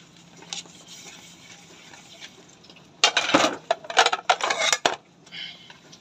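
Handwashing dishes: quiet water trickle at first, then a burst of clattering plates, pots and utensils knocking together under running water, close by, with no speech.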